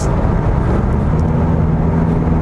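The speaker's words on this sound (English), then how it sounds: "when you accelerate the car, you hear the engine sound" Mazda 6 sedan with a 4-cylinder turbo diesel engine under acceleration, a loud, steady engine drone with low humming tones, heard from inside the car without any voices.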